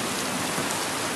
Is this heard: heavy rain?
yes